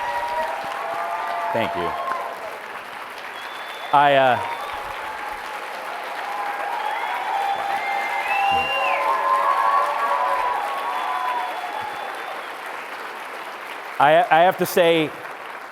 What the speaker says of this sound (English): now you can clap if you agree